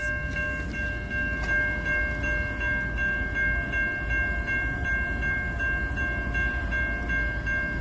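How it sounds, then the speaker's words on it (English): A freight train rolls past at Canby Road, a steady heavy rumble with a loud sustained horn chord held across the whole passage, nearby and without talk. "The train's right there!"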